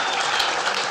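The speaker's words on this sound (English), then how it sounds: "one big, huge round of applause to all of our competitors for their hard work and all their time" Dense, steady applause from a conference audience honoring competitors at a WordCamp event, a continuous wash of many hands clapping with no pause.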